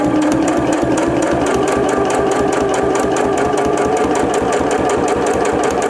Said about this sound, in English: we are ready to sew our pin tuck